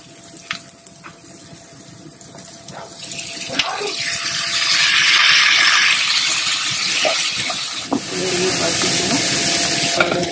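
Cumin, onions and chillies with added tomato frying in a pan, a steady hiss that rises sharply after a few seconds and stays loud and continuous.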